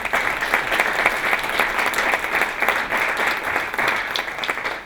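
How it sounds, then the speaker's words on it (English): A symposium audience gives a big round of applause for the event's sponsors, a full, even roar of clapping hands from a seated crowd that stays at a steady, loud level throughout without talk. "Could we give them all a big round of applause?"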